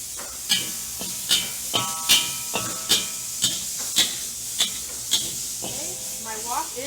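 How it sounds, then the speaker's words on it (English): Pad thai tossed in a drying wok gives a steady hiss and sizzle, with a regular series of sharp scraping clanks from the spatula roughly every half second. Near and loud, no talking. "stir fry that around. And if I start to see that my wok gets a little dry, I can add some oil to it"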